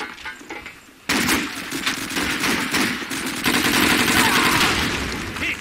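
Automatic weapon fire in the PC multiplayer game Call of Duty 2 bursts in loudly and continues as rapid, dense rattling volleys for several seconds after a quieter opening.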